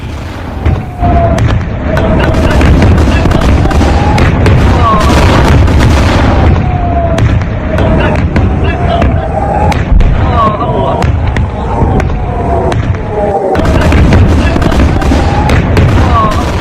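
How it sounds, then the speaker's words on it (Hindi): Iranian ballistic missile strikes exploding, heard as loud, dense booms and crackling blasts that come one after another under a continuous rumble, with voices faintly mixed in. "ईरान ने एक के बाद एक दर्जनों मिसाइलें इस पर दाग दी हैं"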